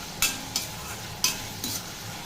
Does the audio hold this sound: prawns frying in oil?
yes